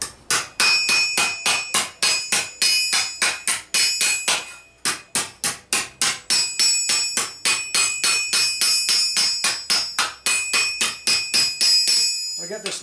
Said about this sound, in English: use a flatter hammer now